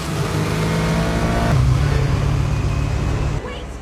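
A car engine roars loudly and steadily during a movie chase scene in Captain America: The First Avenger (2011), the pitch shifting midway before the roar eases slightly at the end.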